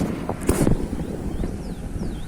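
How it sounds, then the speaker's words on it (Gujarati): Gusty wind rushes over the microphone in a steady roar, with a brief louder buffet early on and faint distant tones in the background. "એ પવન છે મસ્તીનો"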